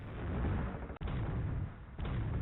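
Short looping combat noise from a J2ME mobile video game: a harsh, muffled, continuous barrage of rumbling gunfire and booms, thick and loud, with abrupt cuts where the loop restarts about every second.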